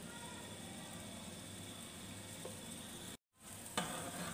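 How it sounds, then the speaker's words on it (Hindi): Gentle sizzling of white sauce pasta ingredients being stirred together in a pan, a soft, steady hiss with a brief cut to silence near the end and a light clink after it. "सब चीज़ों को अच्छी तरह से मिक्स करेंगे"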